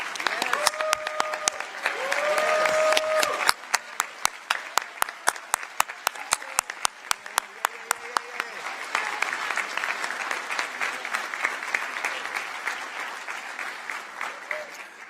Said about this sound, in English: if we could give her a big round of applause and a thank you